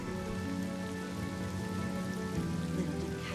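Rain in the Honkai: Star Rail video game, a steady patter under a sustained tonal background, moderately quiet and constant.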